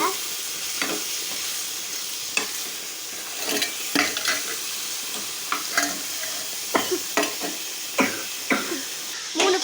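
Onions, tomatoes and garlic sautéing in a pan for tomato chutney give a continuous close sizzle broken by repeated scraping and clacking stirs at an uneven pace.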